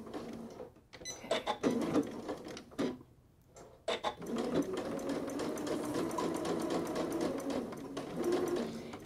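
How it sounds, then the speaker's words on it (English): A sewing machine bastes a seam along piping, its needle running in quick mechanical bursts: a short start, a brief pause, then a steady, close, fairly quiet run of stitching. "I'm going to baste right along the seam allowance or just inside."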